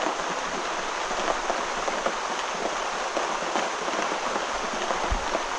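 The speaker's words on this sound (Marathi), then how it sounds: "सकाळ सकाळ पाऊस चालू झाला" Steady rain falls continuously, a dense even hiss with scattered droplet patter, fairly close, with no voices.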